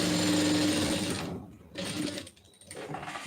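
Close-up sewing machine running a straight stitch on blouse cloth: a steady rapid mechanical whir that halts twice briefly before resuming.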